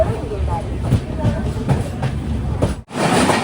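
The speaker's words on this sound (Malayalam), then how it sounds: "നേത്രാവതി എക്സ്പ്രസ് വന്നിട്ടുണ്ട്." The Netravati Express pulls into a station on the Konkan Railway, a continuous low rumble and rattle of rolling carriages with voices murmuring over it.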